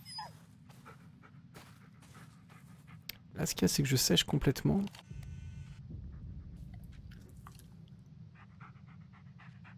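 A dog in the Blair Witch video game pants and whimpers in a loud burst lasting about two seconds, with someone speaking French around it.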